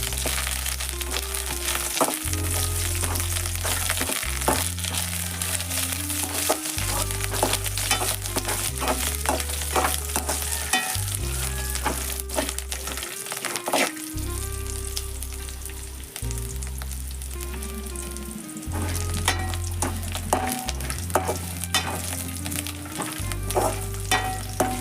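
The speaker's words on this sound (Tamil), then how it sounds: "அப்படியே மொத்தமாக கிளறி அதில் கொஞ்சம் கருவேப்பிலையை போட்டுக்கோங்க." Kerala-style beef roast is stirred in a hot pan with chilies and curry leaves, giving a continuous crackling sizzle with scraping strokes of the spoon, set against a low rhythmic music bed.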